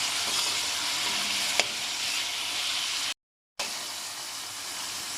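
Chicken frying in plenty of ghee, a continuous bright sizzle with a single sharp tap partway through and a brief total cut-out before the sizzling resumes.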